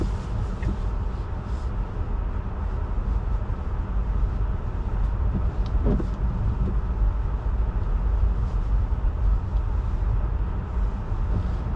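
A rear-wheel-drive Tesla Model 3 Standard Range Plus drives through a fresh snowstorm on winter tires, steady low road rumble and tire noise inside the cabin, continuous and even, without voices.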